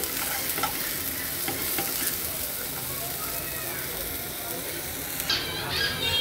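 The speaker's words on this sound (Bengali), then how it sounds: "আমি এখন একটু একটু নেড়ে চেড়ে নেব" Food frying in a pan with only a spoonful of oil, stirred steadily, giving a constant close sizzle with scraping strokes on top, while a voice talks quietly underneath.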